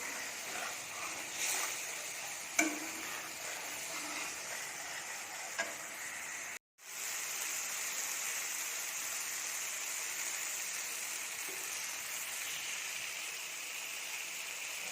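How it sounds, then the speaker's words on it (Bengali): Spices being sautéed in a pan, a steady soft sizzle with occasional stirring scrapes, continuous and close, with no talking. "তো দেখো এখানে আমি মশলা কষাচ্ছি অলরেডি।"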